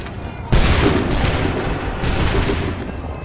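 Musket volleys in Assassin's Creed 3: a sudden loud crack of massed gunfire bursts out, then rumbles and decays, followed by a second volley a moment later.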